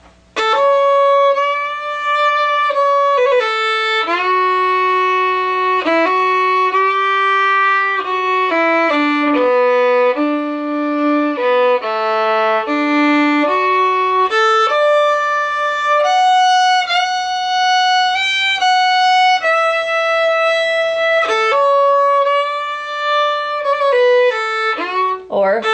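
Slow rendition of the folk tune Ashokan Farewell on a bowed melodic instrument, phrased with Scottish snap and dotted sixteenth-note rhythms; a single clear sustained melody line carries on alone, without accompaniment.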